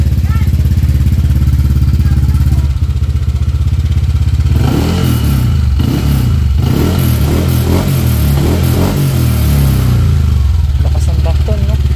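A Honda Click scooter is test-fired after a Faito ignition coil install, idling steadily up close, then revving repeatedly in loud surges; voices are heard in the background.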